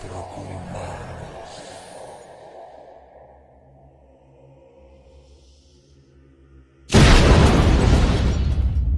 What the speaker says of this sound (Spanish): una fuerte explosión se generó a un lado del santuario